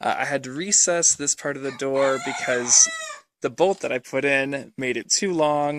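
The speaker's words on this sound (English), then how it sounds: "you can hear the rooster in the background" Someone talks close up while a rooster crows faintly in the background, its calls partly buried under the speech.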